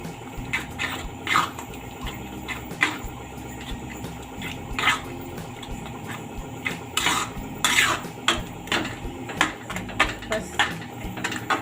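A spoon stirs mawa into paneer butter masala gravy in a pan, making repeated scraping and clinking against the metal with wet, thick squelches, close and steady, with no voices.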